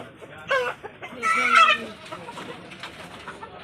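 Black Australorp chickens cluck close by in a few short bursts, one louder squawking call rising above the quieter background clucks.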